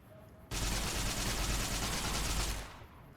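Sustained automatic gunfire in modded Fallout New Vegas, a loud dense burst of rapid shots lasting about two seconds, then tapering off into quiet.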